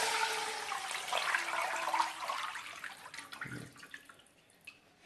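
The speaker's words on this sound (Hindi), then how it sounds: "इसके अंदर जो है मैं सारा का सारा चिकन स्टॉक जो है वो डाल दूंगा।" Chicken stock poured from a container into an open-mouthed kadhai for hot and sour soup, a rushing, gurgling liquid pour that gradually thins and tapers off into faint drips and splashes.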